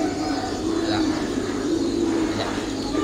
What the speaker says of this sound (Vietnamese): hai con bồ câu lên.